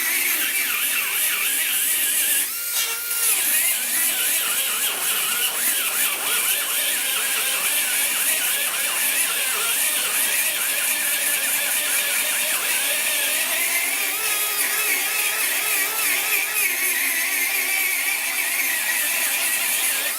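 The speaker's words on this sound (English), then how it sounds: "I love this die grinder" A die grinder sands a car dash pillar panel, giving a continuous high-pitched whine and a gritty abrasive hiss, loud and close, with one brief dip early on.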